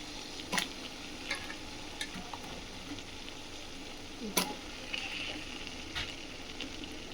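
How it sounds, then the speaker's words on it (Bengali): Marinated mutton, cut into small pieces, goes into a hot pan and sizzles steadily with a constant frying hiss. A few sharp ticks of a utensil against the pan are heard. No one speaks. "এবার সেই ম্যারিনেট করা আমি মাটনটা দিয়ে দিচ্ছি।"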